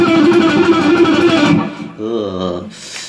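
Messy, blurred alternate-picked guitar playing with smeared, unsynchronized notes, then a brief cleaner plucked phrase near the end; close and fairly loud.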